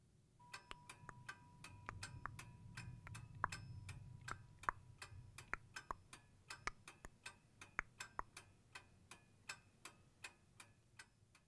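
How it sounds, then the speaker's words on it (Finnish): A small clock ticks steadily and evenly, crisp and close, alone in a quiet room with a faint low hum underneath for a few seconds. "pienen kellosi tikittävän ja tuudittavan sinua uneen"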